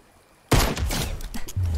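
Pistol shots in Fortnite erupt suddenly after a quiet start, sounding as a dense, close cluster of rapid reports followed by lingering noise.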